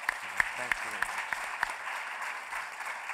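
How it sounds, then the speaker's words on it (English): Faint, sparse clapping from a small panel discussion audience, with scattered claps over a soft wash of noise and a voice speaking briefly near the start. "Please an applause for this"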